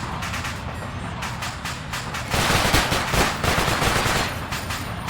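Rapid machine gun fire in the video game Arma 3, with a German Iron Front setting, rattles in long, dense bursts that swell louder midway, with no voices over it.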